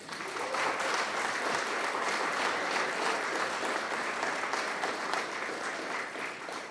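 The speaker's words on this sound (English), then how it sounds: "Let's give my family a big round of applause." A big round of applause from the audience at a keynote address, steady dense clapping sustained throughout at moderate level without talk.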